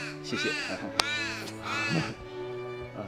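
A crow caws several times outdoors at a wedding speech, harsh repeated calls at a moderate distance, with a voice speaking briefly alongside.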